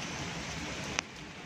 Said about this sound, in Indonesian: Hari ini di Hong Kong suasananya hujan deras